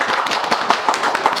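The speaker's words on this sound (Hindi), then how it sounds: "एक बार खड़े हो जाइए और एक बार एमडी सर के जोरदार तालियां बजाइए इस चीज के लिए।" Students at a mobile repair training institute in India applaud loudly and steadily, many hands clapping densely and close by for the whole stretch with no pauses.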